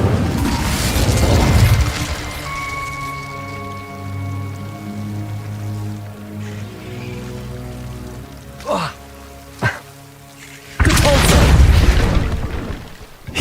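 An Incendio fire spell is cast in the Hogwarts Legacy video game, a loud whooshing burst of flame that gives way to soft tonal game music, then a second rushing blast near the end.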